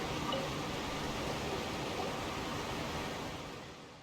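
Loud waterfalls in a video game, a dense, steady roar of rushing water filling the whole clip without pause, fading slightly at the end.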